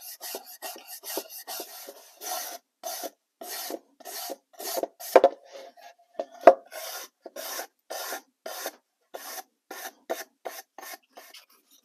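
Sandpaper rubbed along the grain of a wooden sign being distressed for an aged look, heard as a steady series of short, close rasping strokes in an even rhythm, with no one talking.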